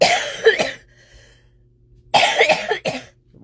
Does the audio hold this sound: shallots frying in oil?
no